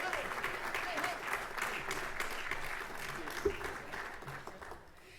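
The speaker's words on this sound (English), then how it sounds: "So please give a round of applause for our today's moderator, Nicole Austin Hillary." Audience applause at a panel event on federal voter protection, a sustained wash of clapping from a crowd that holds steady for several seconds before tapering off near the end.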